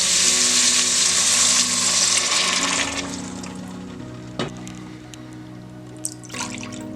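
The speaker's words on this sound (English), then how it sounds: "we're gonna add 2 cups of white vinegar." White vinegar pours steadily into a pan of sautéed carrots for a few seconds, a rushing splash that tapers off, followed by a couple of small drips and clinks.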